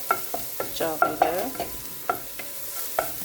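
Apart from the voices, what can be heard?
vegetables frying and being stirred in a pan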